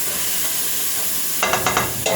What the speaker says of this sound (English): So I'm going to just stir this around.